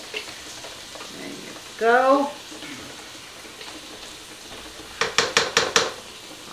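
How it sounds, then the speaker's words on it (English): A spoon scrapes and clinks against a container while vegetable curry is being cooked, with a short grinding scrape and then a quick series of sharp metallic taps, close by, and a brief spoken remark. "I'm going to scrape out as much as I can out of this"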